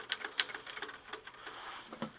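An old Underwood typewriter's carriage and keys clack in uneven bursts of light mechanical taps and rattles, close and moderately loud, with no talking over it.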